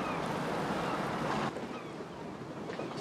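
A boat out on open water, giving a steady wash of wind and water noise that stays loud and even, then drops a little partway through, with no voices.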